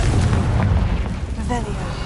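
Confringo fire spell explosion in Hogwarts Legacy, a loud booming blast with rumbling low end sustained over two seconds, game effects layered on top and a brief tonal chime near the end.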